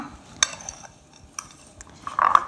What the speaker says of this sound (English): So we stir this together.